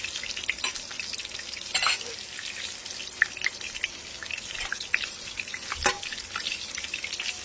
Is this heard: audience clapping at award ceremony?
no